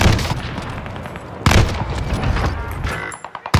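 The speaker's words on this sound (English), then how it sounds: "They're shooting me." Video game gunfire on the Caldera map: a dense, continuous barrage of booms and shots, with a sharp loud burst midway and a few isolated cracks near the end, all close and heavy.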